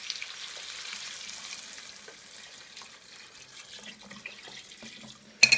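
Water from a one-litre jug is poured into a madras curry cooking in a pan, a steady hissing sizzle and liquid rush that runs throughout and ends in a sharp clatter.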